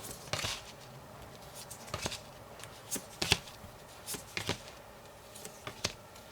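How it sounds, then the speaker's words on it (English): A tarot deck being split and cards laid out one by one, heard as a series of quiet, separate card snaps and slides at a slow, uneven rhythm close by. "I will split the deck and place 6 cards."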